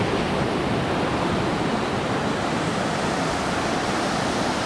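Dawn on a beach in Bali: a continuous, loud broadband roar of surf and wind, steady and unbroken throughout, with no voices.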